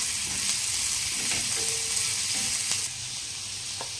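Onion and garlic sautéing with a pinch of salt on a pan over low heat, a dense continuous sizzle with a few light utensil taps, close and even, dropping slightly quieter toward the end, no talking.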